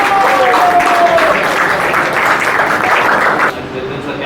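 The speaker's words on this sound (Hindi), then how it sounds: "तालियां।" Audience at an indoor stage event breaking into loud, full applause that holds steady, then drops off abruptly into a quieter tail.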